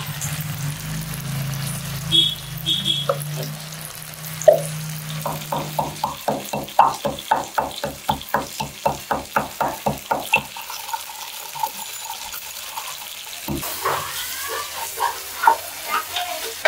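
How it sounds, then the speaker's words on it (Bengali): Cloves and chilli fry in a hot pan, with a steady sizzle under rhythmic scraping strokes of a spatula that turn into a quick run of regular taps before the sound fades. "এটাকে আমরা একটু ভাজবো এখন"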